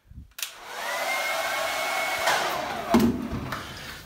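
A handheld hair dryer blows in a steady, close, continuous whoosh that starts abruptly after a brief silence and holds at an even level, with a small bump near the end and no talking.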